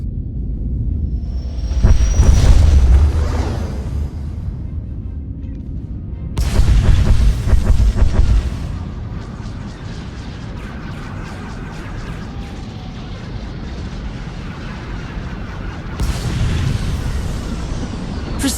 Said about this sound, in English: Proceeding with bombardment, targeting all major population centers.